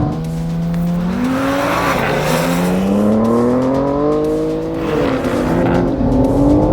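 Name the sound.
BMW M3 and Audi RS 5 accelerating, engine hitting rev limiter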